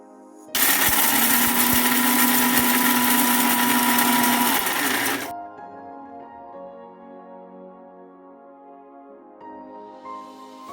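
An electric grinder pulverizes makhana (fox nuts) for gond laddu, a loud steady whirring roar for about five seconds that cuts off sharply, leaving faint rattling and a low fading hum.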